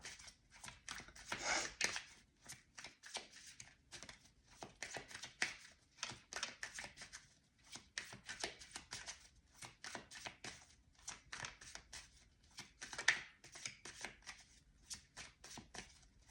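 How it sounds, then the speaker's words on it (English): A deck of tarot cards shuffled by hand in a quiet room, giving repeated bursts of riffling and sliding card noise in an uneven rhythm, close and fairly soft, with no talking. "Just bear with me as I shuffle."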